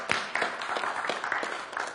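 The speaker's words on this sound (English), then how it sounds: "Come on, give yourselves a round of applause." At a presentation to an Ethical Humanist Society, an audience applauds itself. The clapping is fairly soft and somewhat distant, with a scattering of sharper individual claps over a brief, even wash.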